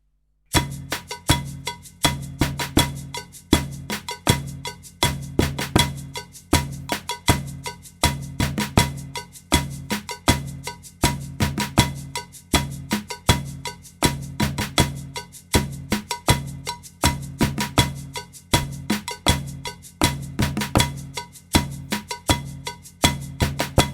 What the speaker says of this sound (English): our saucepan, our metal parts, are going to play the following rhythm